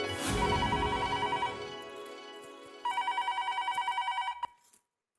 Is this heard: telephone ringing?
yes